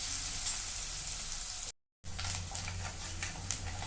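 Chopped onion with fenugreek sizzling slowly in a pan over a medium gas flame, a steady soft frying hiss with faint crackles and a brief gap of silence partway through.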